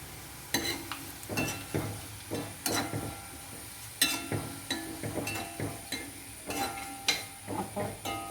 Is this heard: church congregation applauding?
no